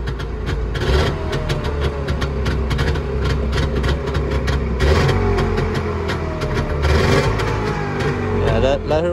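A 1990 Trabant 601 with a 600cc two-cylinder two-stroke engine warms up with the choke in, its uneven idle running near and loud with occasional revs, while a person talks over it.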